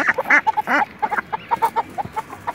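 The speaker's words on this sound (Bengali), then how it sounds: "খাকি ক্যাম্বেল হাঁস।" Khaki Campbell ducks crossed with a Rupali breed, kept on a mixed farm alongside chickens, give a run of short, nasal calls repeated in quick bursts at close range, with no talking.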